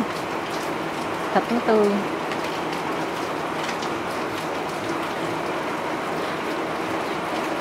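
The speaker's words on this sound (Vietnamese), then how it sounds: "Cái này ngày nào cũng mưa hết." Steady rain falls outdoors in the Vietnamese countryside during a midday session of making bánh ít rice cakes, a constant even hiss beneath a woman's brief speech and a short clatter.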